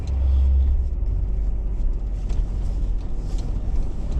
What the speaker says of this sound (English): I think the front of my truck just drug